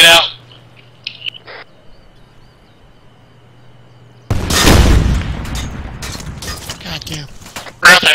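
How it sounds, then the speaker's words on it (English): A grenade blows up in the military shooter Arma III with a sudden loud boom partway through, followed by rumbling debris and scattered crackling, after a stretch of near silence with faint clicks. "Grenade out."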